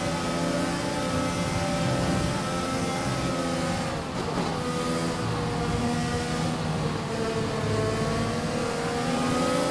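Formula 1 car in the F1 2021 video game powering out of a corner: a loud, continuous engine roar that climbs steadily in pitch through the gears, close and uninterrupted, with no voices.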